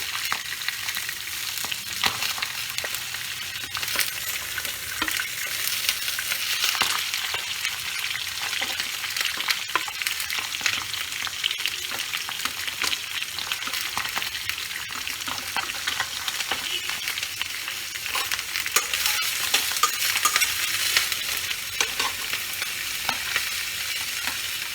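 Small tangra fish frying in oil in a pan, a steady close-up sizzle with spattering crackles lasting throughout, no talking.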